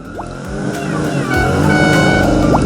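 A car engine revs and roars in a racing-style sound effect, with rising pitch sweeps at the start and end over a steady, loud drone.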